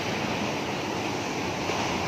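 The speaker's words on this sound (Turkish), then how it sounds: "Dalgalar bugün bayağı bir şiddetli." Strong surf pounds the shore at Tanah Lot in Bali as a continuous, dense roar of rough ocean waves, loud and close without pause.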